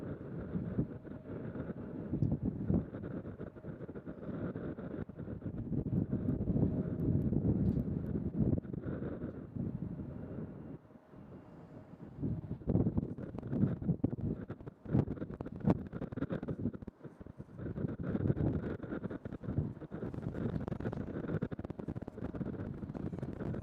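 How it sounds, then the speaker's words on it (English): Strong, gusty wind buffets the microphone at Louisville UPS World Port airport, a loud rumbling roar that surges and dips throughout with brief lulls. "As the wind is blowing at a zephyr of 22 miles per hour."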